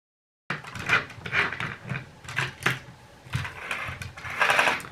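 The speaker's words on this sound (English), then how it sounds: "we're just going to go ahead and sew this circle all the way around" A small sewing machine stitches in short bursts, its whirring rising and pausing several times, close by, with soft mechanical clicks between runs.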